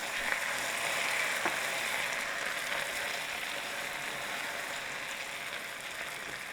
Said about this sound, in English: I'm gonna add a little fish sauce. And this is gonna sizzle.